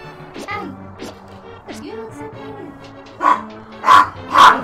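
Dog barking indoors during a Zelda A Link to the Past gaming session, a few loud close barks near the end after whimpering sounds, over people talking and game music.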